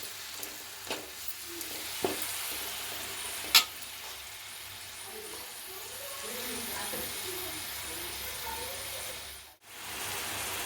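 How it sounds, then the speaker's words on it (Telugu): Prawns fry in a pan for a masala curry, giving a continuous soft sizzle with occasional sharper crackles and stirring knocks, fairly quiet and steady, with a faint voice underneath. "రొయ్యలు ఎలా ఉడుకుతున్నాయి చూడండి"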